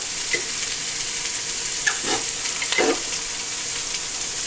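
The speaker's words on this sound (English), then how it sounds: "We're going to saute the onions and garlic" Constant sizzling of onions and garlic sautéing in olive oil in a pan, with a few soft clinks and stirring scrapes over the steady hiss.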